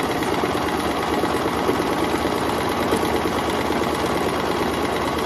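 A sewing machine stitching a tote bag runs steadily and close by, its fast even rattle of needle strokes continuing throughout without pause or voices.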